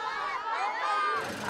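A crowd greets the Pope on his arrival in Mongolia, a steady wash of many voices cheering and calling out close by, with a shift in tone near the end.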